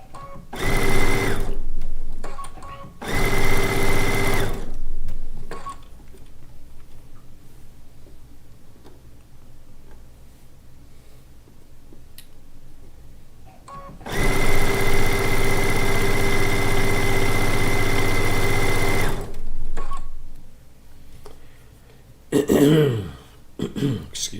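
Two short bursts and then one longer steady run of a sewing machine piecing a log cabin quilt top, each a close mechanical whir with quiet pauses and faint handling between.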